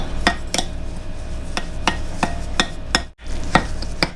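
A utensil mixing brown sugar with other ingredients in a bowl makes a run of sharp, evenly spaced clinks and taps against the bowl, close and clear, with a brief pause near the end and no talking.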